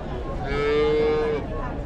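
A cow lets out a single sustained moo at a farm in South America, steady and fairly close, with a low rumble of the barn around it and no one talking.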